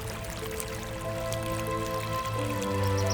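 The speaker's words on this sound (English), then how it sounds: "the sound of water flowing." Water trickles and drips steadily alongside a soft sustained musical tone, the flow close and continuous.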